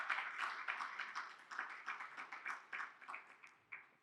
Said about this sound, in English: Can we give them a last round of applause as they leave?